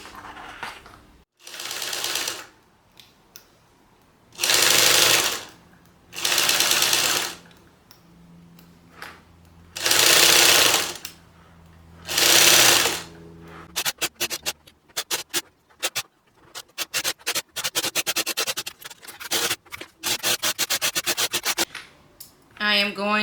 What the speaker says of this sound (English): now we're just going to sew around the entire thing at 1/8 of an inch seam allowance